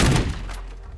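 A car crashing into an object in the video game Teardown: one heavy, booming thud that hits at once and then fades over about a second.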